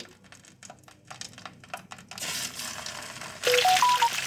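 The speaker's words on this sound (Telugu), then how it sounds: "ఆయిల్ వేడైంది, 1 by 1 వేసుకుందాం గుత్తి వంకాయలు." Stuffed brinjals dropped one by one into hot oil in a pan, with soft clinks and handling at first, then a steady bright sizzle swelling louder as frying takes hold.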